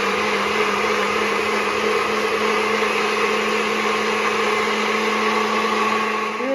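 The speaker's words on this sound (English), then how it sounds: "Let's get this blended." A blender runs loud and steady blending a sauce, with a constant high-pitched motor whine, close by, and its pitch shifts slightly at the very end.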